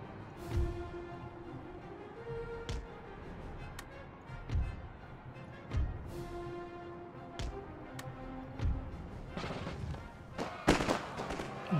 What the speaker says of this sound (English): Fire their pistols at us.